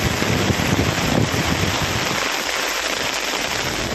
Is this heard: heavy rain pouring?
yes